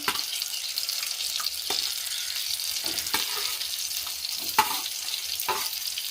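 Steady hissing sizzle of bitter gourd frying in a hot pan, with occasional louder pops and crackles, close and continuous, no voices.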